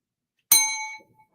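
A notification bell sound effect rings once, a single bright metallic ding that rises out of silence and fades away over about half a second.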